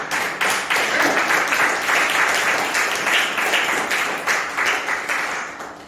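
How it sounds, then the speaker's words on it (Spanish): A church congregation breaks into loud sustained applause, a dense continuous wash of many hands clapping at once with a faint murmur beneath. "Un aplauso al Señor."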